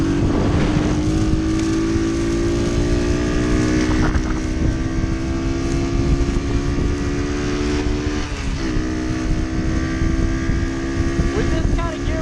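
A 2018 Amstar Nostalgia 49cc cafe racer's small engine buzzes loudly, its pitch climbing steadily as it revs out each gear, with clear drops at the shifts and heavy wind rush over the microphone.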